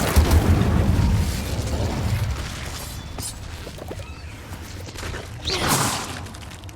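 A fire spell cast in the Hogwarts Legacy video game inside a cave: a loud, deep burst at the start, then a rumbling fiery rush that fades and flares again near the end, with no talk.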